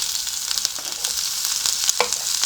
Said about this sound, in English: I'm going to fry my ingredients. Start with the cooking oil.